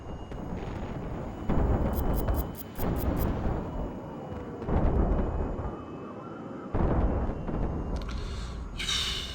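Explosions and bomb blasts in the Highfleet video game, a run of loud, rumbling bursts that come in waves, with a few sharp metallic beeps and a brief hiss near the end.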